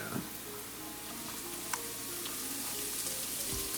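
Cauliflower rice frying in a pan with browning garlic gives a steady, even sizzle and crackle, with a few light stirring taps. It sounds close and there is no talk.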